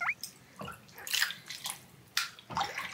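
Water is poured quickly over a long-haired guinea pig during a bath, giving splashing and dripping bursts in an irregular rhythm, close and fairly soft.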